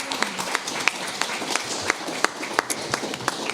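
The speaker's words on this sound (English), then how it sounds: "So can we give them another round of applause?" A modest audience at a community candidate forum claps for the candidates. The applause is light and scattered, with distinct individual claps in an uneven rhythm and a faint murmur underneath.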